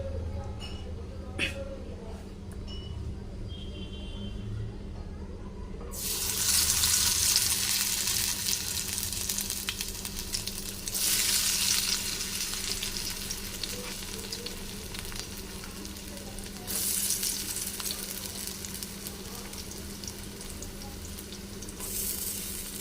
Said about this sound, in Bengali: অল্প তেলের মধ্যে ভালো একটা ভাজা সম্পূর্ণ ভাজাটা হয়ে গেছে